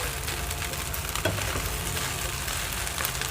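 Wai Wai instant noodles stir-fried with spring onions in a pan give a steady, even sizzle throughout, with a few soft clinks of a utensil mid-way and no talking.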